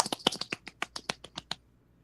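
A quick run of about a dozen light, sharp claps or taps in fast, slightly uneven rhythm, then silence.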